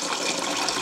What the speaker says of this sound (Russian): Наливаем кипяточек.